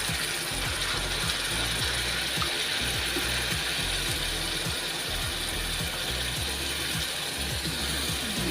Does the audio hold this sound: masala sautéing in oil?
yes